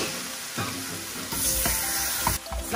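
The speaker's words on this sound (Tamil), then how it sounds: "நம்ம வச்சிருக்கக்கூடிய ஃப்ரைட் இட்லிஸ் எல்லாத்தையுமே உள்ள சேர்த்துட்டு நல்லா வந்து மிக்ஸ் பண்ணிக்கோங்க" Fried idlis being stirred into a sauce in a pan for chilli idli, with a steady sizzle under repeated scraping strokes of the spoon, close and fairly loud throughout.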